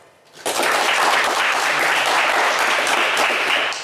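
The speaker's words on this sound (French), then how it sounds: "belle opération pour vous, Christian, on vous applaudit" Studio audience of a French TV game show bursts into loud, sustained applause after a brief quiet start, dense clapping continuing evenly for several seconds without speech.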